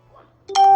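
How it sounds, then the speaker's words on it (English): A short bright chime from a notification alert rings out clearly and holds, after a quiet near-silent stretch. "Sorry about that notification there."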